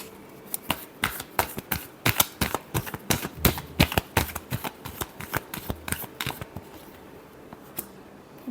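A deck of tarot cards being shuffled: a rapid, uneven run of crisp slapping and riffling bursts, close and loud, easing off near the end, with no talking.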